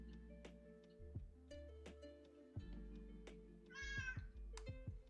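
A house cat meows once, a short, close call in a quiet room, amid clicks, thumps and low hum.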